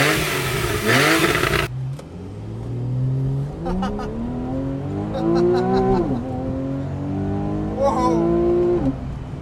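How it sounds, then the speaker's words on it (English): A Porsche 911 engine revs and accelerates through several rising gear pulls from inside the car, loud and close, with a whooshing burst at the start and brief voices mixed in. "We got the Porsche. So that's right. We got the 911."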